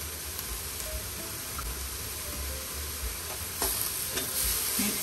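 Sautéed bell peppers seasoned with black pepper and salt are stirred in a pan, giving a continuous soft sizzle with light scraping, then louder spoon strokes toward the end.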